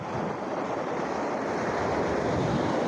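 Sea waves rush in at a small island off the Tamil Nadu coast, a dense, steady wash of surf with wind noise on the microphone, loud and continuous with no talk.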